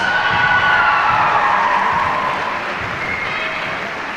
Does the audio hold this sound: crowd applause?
yes